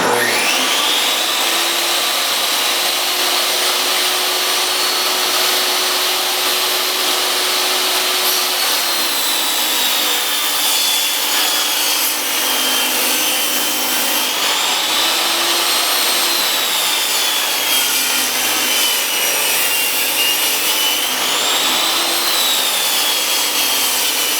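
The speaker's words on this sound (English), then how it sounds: "I'm just going to set it for an 1/8 of an inch in and just shave that, maybe a saw blade off of this" Table saw ripping a thin 1/8-inch strip off a lumber board, a loud continuous whining cut that holds steady for over twenty seconds with slight pitch dips as the blade works through the wood.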